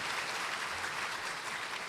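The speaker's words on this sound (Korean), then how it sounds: "우리 함께 충정교회와 또 우리 그 New Life 교회에서 함께 박수 한번 할까요?" A church congregation claps together during a Sunday worship service, a brief, even burst of dense applause filling the room without any voices.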